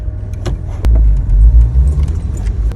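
Close, loud rumble of a manual transmission car rolling along the road, low engine drone with a few light rattles and clicks near the start.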